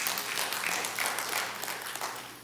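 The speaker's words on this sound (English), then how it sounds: "you can applaud that" A church congregation applauds after a prayer at a service, the clapping a steady, fairly faint wash that holds through the whole stretch with no voices.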